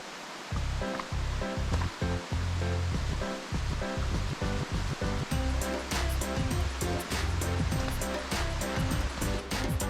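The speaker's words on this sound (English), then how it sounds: "we took a nice hike to check out the waterfall" Colivere waterfall in Martinique, heard on a hike as a loud, continuous rushing roar of falling water filling the whole stretch, with no talking.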